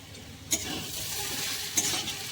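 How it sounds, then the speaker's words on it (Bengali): Garam masala being stirred into a banana flower curry (mochar ghonto) in a hot pan: a steady soft sizzle with two brief scraping stirs of the spoon, close and alone. "গরম মশলাটা ভালো করে মিশিয়ে নিলাম।"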